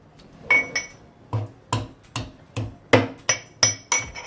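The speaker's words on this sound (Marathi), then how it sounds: "आता आलं ठेचूया" Fresh ginger pounded by hand in a mortar while being crushed coarsely, about ten sharp, evenly spaced thuds with faint clinks, close and loud with no voices.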